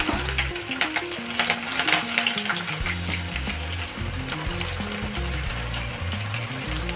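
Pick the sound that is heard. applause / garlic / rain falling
garlic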